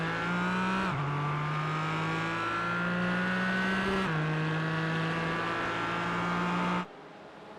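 GT4 race cars in a sim racing game accelerate hard at a restart at Sonoma, a loud sustained engine roar with upshifts around one and four seconds before the sound cuts off abruptly near the end.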